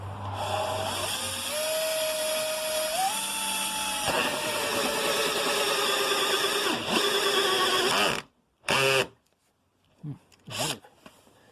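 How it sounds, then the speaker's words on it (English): A drill fitted with a hole saw cuts through material while fitting an ATV water temperature gauge, whining loudly and steadily for about eight seconds, its pitch shifting as it bogs and stalls, then a couple of short bursts. "It's time for the hole saw."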